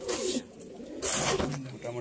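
Pigeons in a backyard pigeon loft, including white Giribaz pigeons, cooing in low, soft, throaty bursts close by, with a voice talking over part of it.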